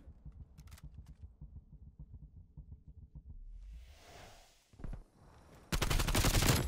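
Gunfire in the video game Call of Duty Cold War during a 1v1 match: a rapid run of short clicking shots, then a louder burst and a dense, sustained blast of fire at the end, all close and without talk.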